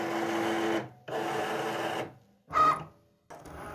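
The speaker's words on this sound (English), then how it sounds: "The Cricut will scan this black line around your prints, and then it will determine where to cut." A Cricut cutting machine cuts out a handprint craft, its motor whirring in close, loud bursts of about a second each, separated by short pauses and one brief higher whine.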